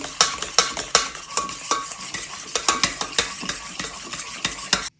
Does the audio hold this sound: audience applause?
no